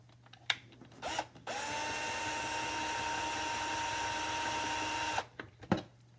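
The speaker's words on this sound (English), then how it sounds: "So we're going to drill it in." A power drill drives screws to mount a cabinet handle, whirring steadily for about four seconds at close range between short clicks and handling knocks.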